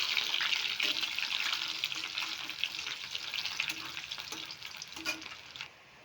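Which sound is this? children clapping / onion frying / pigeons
onion frying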